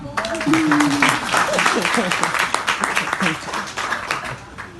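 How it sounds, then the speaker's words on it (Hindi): Audience clapping at a college poetry recital (kavi sammelan), a scattered run of claps mixed with voices talking over it throughout. "शहीदों, बजाइए ताली।"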